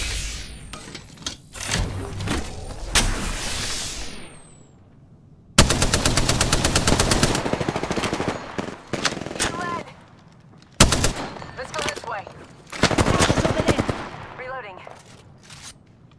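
Gunfire in the video game Apex Legends comes in loud, rapid automatic bursts and sharp single shots, with several separate volleys and quieter gaps between them.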